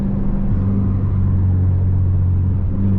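Dodge Charger R/T engine heard from inside the car while driving, a loud, steady low rumble with a droning hum that holds constant throughout.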